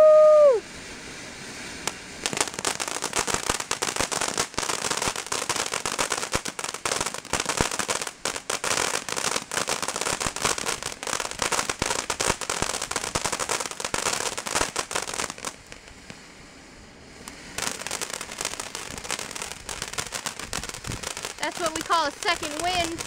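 Fireworks grand finale on the 4th of July: a dense, continuous barrage of crackling firecracker bursts and booms for about twenty seconds, briefly thinning near the end, with people cheering and talking over it.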